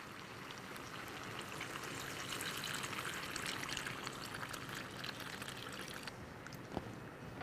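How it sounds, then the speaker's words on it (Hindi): Water is poured into mutton curry cooking in a pot with ginger-garlic paste and meat masala, heard as a steady broadband pouring and sizzling stream that runs evenly for several seconds. "अब डालना है इसमें पानी।"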